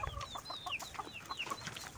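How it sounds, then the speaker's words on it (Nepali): Many chickens cluck and chatter together on a farm, with short rising and falling calls repeating in quick succession, moderately faint and without speech. "कति धेरै कुखुरा हो"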